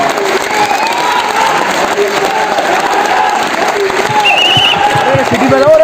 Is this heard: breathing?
no